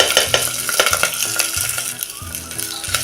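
Washed rice sautéed with cashews and cloves in a pan, a close crackling sizzle with rhythmic stirring and scraping strokes repeating about every half second.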